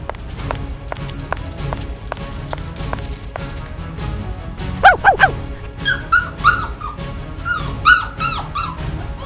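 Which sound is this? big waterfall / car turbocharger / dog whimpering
dog whimpering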